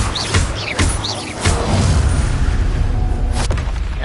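A Confringo spell explosion in Hogwarts Legacy: a single deep booming burst lands around the middle and rumbles on, mixed with other combat effects and brief whooshing chirps.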